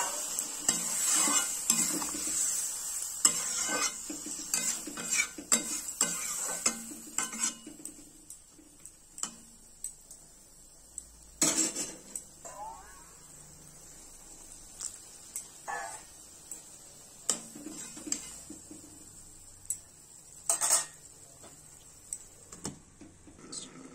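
Beans and potatoes being stirred in a pan with a utensil, giving scattered scraping and clinking knocks over a faint steady sizzle, irregular and close, with no talking.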